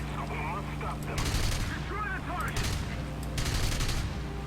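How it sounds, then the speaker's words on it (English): Rapid bursts of 30mm cannon fire in the War Thunder video game, several short volleys at mid distance, with a player's voice talking over the shooting. "he's got the 30mm cannons from the sound of it"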